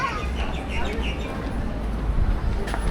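Pigeons cooing outdoors on a busy street, soft repeated coos and flutters heard amid traffic and ambient crowd noise, with people talking nearby.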